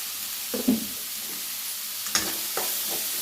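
Horse gram and spinach thoran stirred in a pan, a few soft scraping strokes with light sizzling, near and quiet, with no voices.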